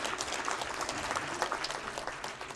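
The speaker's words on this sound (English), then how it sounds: "A big round of applause" An audience applauds at a civil society conference valedictory session, a steady wash of many hands clapping at moderate level throughout, slightly distant in a large hall.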